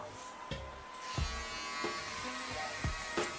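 A cordless Sterling 4 hair clipper hums steadily at close range during a bald fade with a combover haircut, its buzz rising briefly several times as it passes over damp hair.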